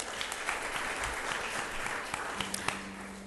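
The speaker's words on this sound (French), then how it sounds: "Merci d'applaudir." A crowd applauds at a Chinese night event in Dakar welcoming a Chinese delegation, with a soft, continuous wash of clapping, moderately distant, a few sharper claps and a brief tone near the end.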